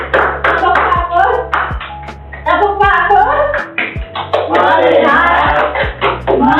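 A classroom counting clap game, with sharp group hand claps landing in a steady rhythm between chanted counts while a teacher leads aloud.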